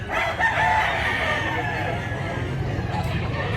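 A big rooster for sale at a crowded poultry market in Mantalungon, Cebu, crowing and clucking among other birds, mixed into thick crowd babble with voices talking nearby.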